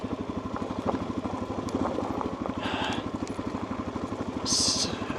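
Motorcycle rolling downhill on a gravel road with the clutch held in, a steady low engine idle pulsing throughout with gravel crunch and clatter, and brief wind or hiss bursts near the end.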